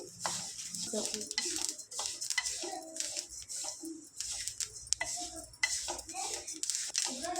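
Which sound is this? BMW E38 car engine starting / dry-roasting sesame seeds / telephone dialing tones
dry-roasting sesame seeds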